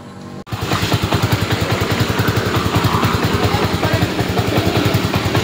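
A CG motorcycle engine, running again after a short in the wiring cut its power, catches after a brief silence and settles into a loud, close, steady pulsing idle, with no talking.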